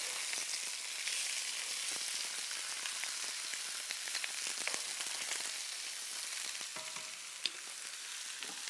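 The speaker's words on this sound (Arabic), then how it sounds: "انا ما بدي الدجاج ياخذ لون، بس بدي اقليه شوي." Chicken pieces frying lightly in a pan, a steady soft sizzle with scattered crackles and pops, continuous and close, no voices.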